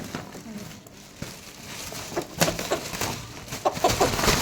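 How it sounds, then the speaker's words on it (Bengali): Desi (country) chickens cluck nearby in short, scattered bursts over a busy background murmur, growing a bit louder toward the end. "এই দেখো তাজা মুরগি দেখো"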